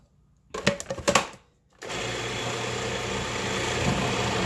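A kitchen blender whirls cream cheese into a pimento cheese mixture, starting with a few short stuttering pulses, then a brief pause, then a steady loud buzzing run to the end.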